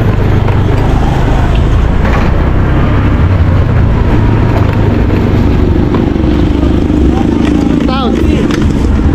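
A motorcycle with a stock, non-aftermarket exhaust rides along, giving loud continuous engine and wind rumble close to the mic, with voices and road noise mixed in.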